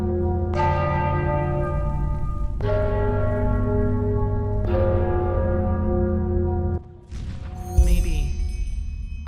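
Several church-like bells in the Enderal game toll in long, resonant strokes about every two seconds, each ringing out and decaying, before a sudden crash and clatter near the end.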